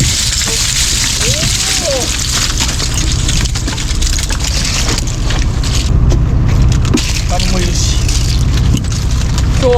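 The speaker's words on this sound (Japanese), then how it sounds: "今日初のいい雨ですね。" Steady rain falls at a harbour during a fishing outing, a dense, constant hiss that stays loud and even throughout, with a faint voice briefly beneath it.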